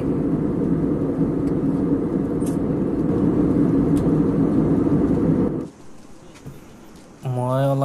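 Airliner cabin during descent on a Mumbai to Guwahati flight: a loud, steady broadband roar that suddenly drops to a quieter hum, followed by a brief cabin chime.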